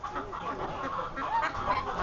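Geese and ducks at a Guangzhou poultry market, a close, continuous jumble of clucking and honking calls with no talk.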